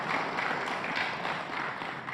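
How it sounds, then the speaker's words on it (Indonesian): Steady applause from a crowd at an Indonesian PDI Perjuangan and PPP political party meeting, a continuous wash of clapping with no pauses, fairly loud and close throughout. "Kita berikan tepuk tangan yang meriah buat Ibu Ketua Umum."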